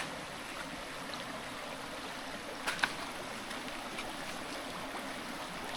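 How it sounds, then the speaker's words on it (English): Stream water flows at a river crossing on a mountain hiking trail, a soft steady babble and rush with a couple of faint brief clicks, no voices. "River crossing."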